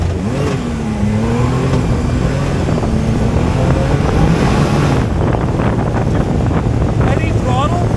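A 2024 Can-Am Maverick R XRS side-by-side engine revs hard and pulls, loud and close with wind buffeting the microphone, rising and falling pitch through sustained acceleration for the whole stretch.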